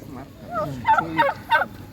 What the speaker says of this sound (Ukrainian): А індики?